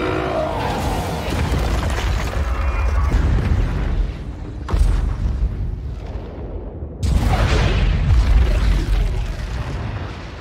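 A cinematic explosion as Asgard is destroyed in a Marvel film: a dense, roaring rumble with two heavy booming surges, each followed by crackling debris, loud and sustained throughout.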